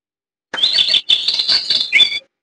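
A clap-activated toy bird chirps close and loud in a quick run of high electronic tweets and trills lasting under two seconds, then stops.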